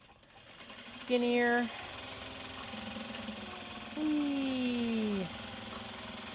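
A sewing machine stitches a Japanese fabric bag in two short bursts, each a steady mechanical whir that slows at its end, with quiet room sound between the bursts and a voice making a brief remark.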